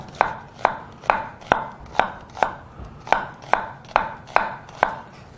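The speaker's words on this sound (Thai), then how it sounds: "ซอยหอมใหญ่เป็นเส้นเล็กๆครับ" A knife slices a large onion into thin strips on a cutting board, making about twelve evenly spaced crisp chops, each roughly half a second apart. The sound is close and clear, with no talking.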